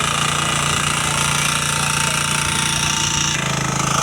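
Motor driving a resort fountain, a loud, steady mechanical rattling drone with rapid knocking pulses, close and continuous with no talk.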